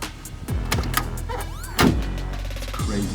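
A heavy Hummer H1 Alpha door shuts in a couple of solid, deep thunks close by, with a louder slam near the end and a brief electric whine between them.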